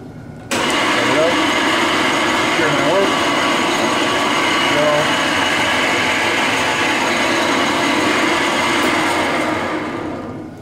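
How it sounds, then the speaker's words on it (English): A Rockwell drill press starts up and runs steadily while drilling a deep hole, a loud continuous motor whir and hum close by that holds for about ten seconds before easing slightly at the end. "Drilling a deep hole, plunge in, clear the chips, and then plunge further."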